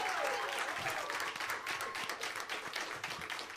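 Studio audience at a live music hall broadcast breaking into applause, a dense patter of clapping that fills the moment alone and stays fairly constant in level.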